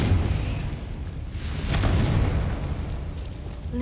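A Confringo fire spell explodes in the Hogwarts Legacy video game, a broad booming blast that swells midway and rumbles on as a steady low roar, with no talk over it.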